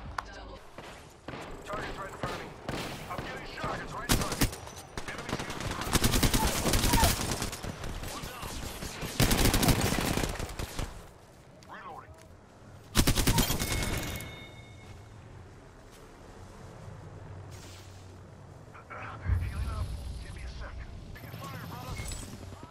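Gunfire in the Apex Legends video game, with bursts of rapid shots and automatic fire in several loud clusters, separated by quieter stretches of game sound, with speech over parts of the fight.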